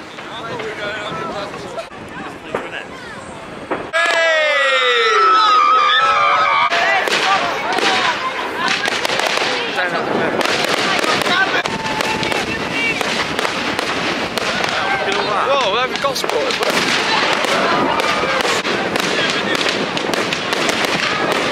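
New Year's Eve fireworks on Portsdown Hill in Portsmouth, with a dense barrage of loud cracks, booms and crackling bursts going off continuously after a quieter start, and a crowd audible beneath.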